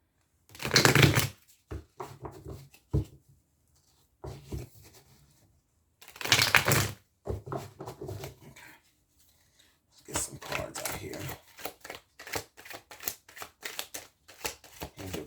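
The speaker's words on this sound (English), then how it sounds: "one more shuffle, and then we're good" Tarot cards are shuffled in several quick riffling bursts close by, with short pauses between, ending in a longer run of rapid flicks.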